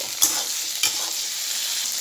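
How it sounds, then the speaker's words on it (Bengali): A steady close-up sizzle of brinjal frying in hot oil with turmeric and salt, with two brief clinks of a utensil stirring near the start. "অল্প দিয়ে ভেজে নেব"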